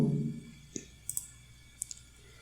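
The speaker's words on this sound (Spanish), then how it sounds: "Vamos a darle clic aquí." A few sharp computer mouse clicks, separated by short pauses and faint, set against a quiet indoor room tone while someone runs a month-end bot in AppSheet.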